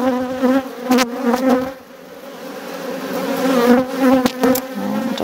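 Bees buzzing around an opened beehive during a frame inspection, a loud close drone with wavering pitch as individual insects pass near, plus occasional brief clicks and knocks.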